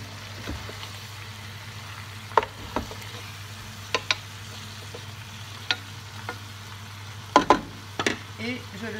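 Rabbit pieces brown in a frying pan with a low, steady sizzle, broken by a few sharp clinks and scrapes of stirring.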